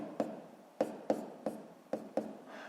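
Pen or chalk strokes marking an asterisk by hand, six short distinct taps and scratches spaced unevenly over about three seconds, close and fairly quiet with no talking.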